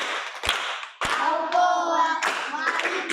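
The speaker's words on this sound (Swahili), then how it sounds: "Tumpigie makofi mwalimu." A group claps in applause for a teacher during a children's alphabet lesson, with bursts of hand claps across the clip and a few sharp taps, loud and close.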